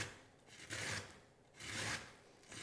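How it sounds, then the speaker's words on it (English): A carrot is rasped against a hand grater in a school cookery lesson for a noodle salad, two slow, soft grating strokes close by and faint, with quiet pauses between them. "So you can see that I've grated all the way up to my peel."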